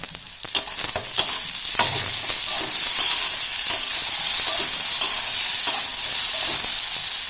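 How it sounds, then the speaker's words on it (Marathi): Tomatoes go into golden sautéed onions frying in oil for masala paneer bhaji, raising a loud hissing sizzle with sharp stirring clatters against the pan throughout, close up and without speech. "आता कांदा छान गुलबट झालेला आहे। त्यामध्ये आपल्याला टोमॅटो टाकायचे आहे।"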